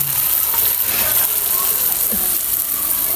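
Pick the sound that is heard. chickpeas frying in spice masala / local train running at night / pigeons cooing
chickpeas frying in spice masala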